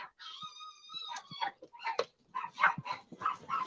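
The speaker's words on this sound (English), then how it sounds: "our dogs are going crazy" Several pet dogs bark and yip excitedly indoors in a rapid, overlapping burst, with some high whining tones mixed in, loud and close throughout.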